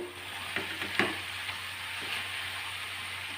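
Amaranth leaves and moong dal fry in a pan for a Telugu-style stir-fry, with a soft, steady sizzle and a few light scraping stir strokes, fairly quiet and close.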